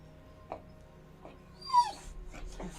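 A dog whimpers in a few short, high whines spaced across a quiet room, including one louder rising cry, with a faint steady hum underneath and no speech.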